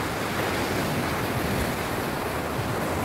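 Rough, steady roar of strong sea waves churning close by, mixed with buffeting wind across the microphone, with no voices.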